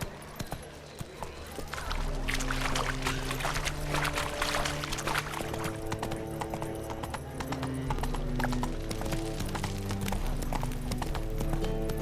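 Geralt's horse Roach from The Witcher video game trots with rapid, steady hoof clip-clops, close and clear, over a layered game soundscape with sustained musical tones.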